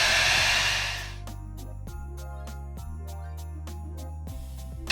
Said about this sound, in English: Now you want to take your blow dryer. You don't want to hold it too close.